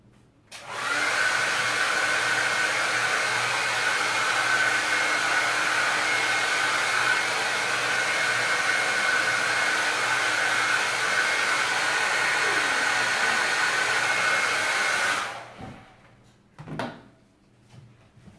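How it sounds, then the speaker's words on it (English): A hair dryer blowing on a freshly painted fox canvas held under a table, a loud steady whooshing whir that runs without break for about fifteen seconds, then cuts off, followed by a few soft clunks. "I'm going to hold this under the table and give it a quick blow dry"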